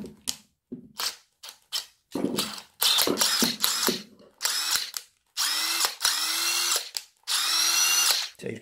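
Cordless impact wrench fitted with a drill chuck adapter, tightening in a string of short, loud bursts of whirring and rattling separated by brief pauses, close to the listener.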